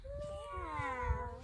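Children in a kids yoga class imitate a cat's meow while holding cat pose, producing one drawn-out, wavering vocal meow that rises and falls, fairly close.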